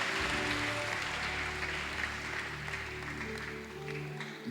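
A church congregation applauding and acclaiming the Lord fills the space with sustained, even clapping and crowd noise over a low hum, holding steady for several seconds.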